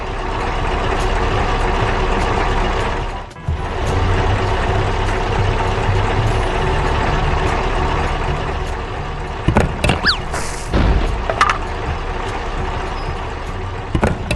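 A cargo truck in a 3D animated cartoon drives on along a bridge with a loud, steady engine rumble throughout, briefly dipping once, then joined by a few sharp hissing and clanking noises near the end.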